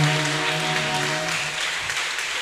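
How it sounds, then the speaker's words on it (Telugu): A church congregation applauds for the children, a dense wash of clapping from many hands that runs steadily throughout, with a sustained music tone underneath at first. "అందరూ ఒకసారి గట్టిగా చప్పట్లు కొడదాం పిల్లకు"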